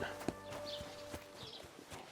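Horse hooves in the video game Kingdom Come: Deliverance 2 clip-clop at a steady walking pace, quiet and somewhat distant, with faint background ambience.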